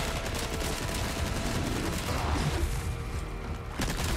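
Gunfire in the video game Resident Evil 4 Remake, rapid repeated shots under a busy, dense game soundscape with a brief low thud near the end.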